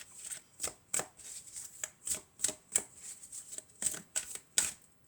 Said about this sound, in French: On va prendre 2 cartes du tarot des fées.